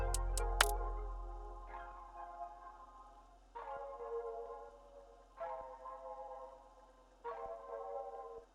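Saturday Night R&B pad preset from the Love 5 Midnight VST in 40's Very Own Keys, playing warm sustained chords that swell in at an even pace, four in a row, each fading slowly, after a few bright clicks at the start.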